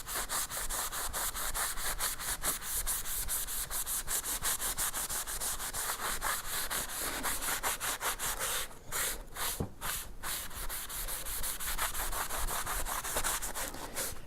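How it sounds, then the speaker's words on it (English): A cloth wipes excess shellac and lamp black off a wooden surface, with continuous rhythmic back-and-forth rubbing strokes, close and steady, with a brief pause near the end before the strokes resume. "I just need to wipe as much of this off as I can."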